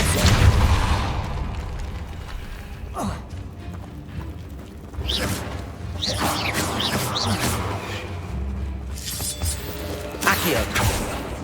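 Depulso force spell blasts in Hogwarts Legacy ring out as several sharp, booming bursts with creaks and crashes, spread across the clip over a steady game background with no talk.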